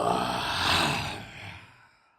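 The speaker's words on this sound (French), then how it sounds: "commençons par un bâillement expressif" A long, expressive open-mouthed yawn done at full effort during a guided breathing exercise, one breathy exhalation swelling then fading over about two seconds, close and alone.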